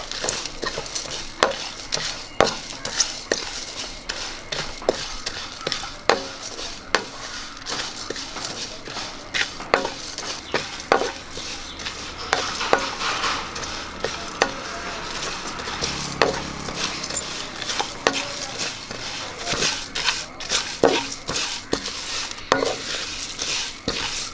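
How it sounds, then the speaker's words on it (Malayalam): Whole spices for garam masala dry-roasting in a pan, stirred steadily with a utensil that scrapes and clicks against the metal, with a soft sizzle running continuously underneath, close and fairly loud. "നമ്മുടെ ഗരം മസാലയ്ക്ക് വേണ്ടിയുള്ള സാധനങ്ങളെല്ലാം നമ്മൾ വറുത്തെടുത്തിട്ടുണ്ട്"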